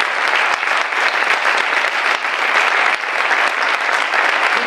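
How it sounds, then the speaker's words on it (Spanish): A crowd at a political rally gives loud, steady applause, a thick unbroken wash of clapping that holds at full strength throughout. "démosle otro fuerte aplauso que se lo merecen"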